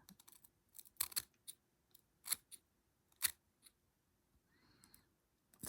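Small scissors snip at a dollhouse doll's hair in several crisp, close metallic cuts spaced irregularly, some in quick pairs, in an otherwise quiet room.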